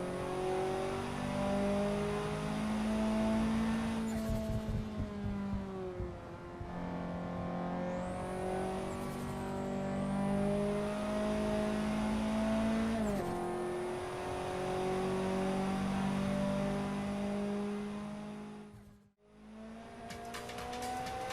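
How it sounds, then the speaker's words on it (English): A 600 hp Toyota MR2 in the driving game Assetto Corsa on the Shutoko expressway revs hard through the gears, with rising engine tones, shift breaks and brief tire squeals, loud and continuous with no voices. "So that's about 5 minutes to drive around in this 600 brake horsepower MR2, which is incredibly fast."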